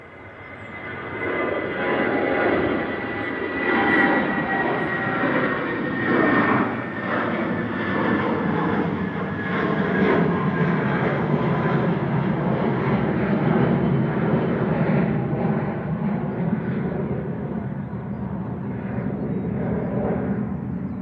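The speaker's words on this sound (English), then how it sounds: "Ryanair 6880 coming in from Copenhagen. This is 9HQBV operated by Malta Air 737800." A Malta Air Boeing 737-800 on arrival at Manchester Airport roars steadily overhead, a loud sustained jet engine rumble holding for about twenty seconds with no talk over it.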